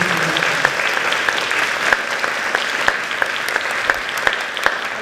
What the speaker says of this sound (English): Please join me in giving these ladies a round of applause and wishing them well.